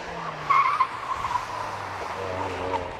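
A modern Mazda MX-5, about eleven years old and dark blue, launches off the line at a hillclimb with a brief tyre squeal and engine rise, heard from a moderate distance under a faint commentary voice.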